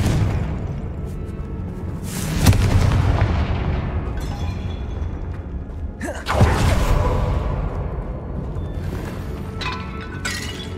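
Confringo fire spell blasts from Hogwarts Legacy, with two loud booming bursts about four seconds apart over a dense rumbling game soundscape, followed by a sharp crackling tail.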